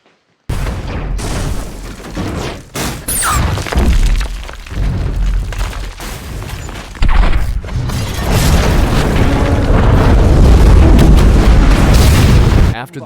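An explosion in a Batman film: loud, sustained booming and crackling blasts fill the whole stretch, swelling into a heavy rumbling roar toward the end.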